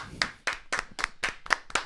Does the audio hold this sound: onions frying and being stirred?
no